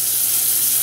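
Herb compound butter melts in a cast iron skillet over medium-high heat, giving off a steady, close hiss of sizzling with no talking.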